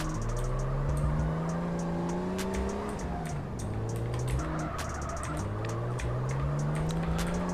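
A car drifts through a turn in the SA:MP (San Andreas Multiplayer) video game, its engine droning steadily while a sustained, wavering tire squeal runs throughout, dipping briefly midway before rising again; no one speaks.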